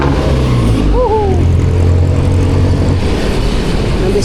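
A jeepney engine rumbles loudly and continuously up close, a heavy low drone with a brief high squeal near the start.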